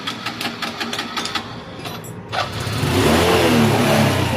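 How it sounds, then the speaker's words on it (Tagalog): A Honda Wave 110 motorcycle engine, checked after a reversed tensioner was refitted, is kicked over with clicking, then catches and idles loudly and steadily up close. "paanda rin na natin kung maingay pa yung makina kasi makalansing yan kanina"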